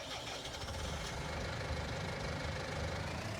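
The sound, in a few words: tractor engine running in video game Farming Simulator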